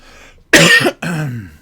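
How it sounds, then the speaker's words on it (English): Two sharp, loud coughs close to the microphone, one after the other, with a short pause between them. "I didn't mean to cough so much into the mic there"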